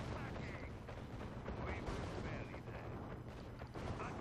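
Rhino tanks trade fire in a five-on-five battle in Red Alert 2, a dense, continuous roar of cannon blasts and explosions with a game voice faintly underneath.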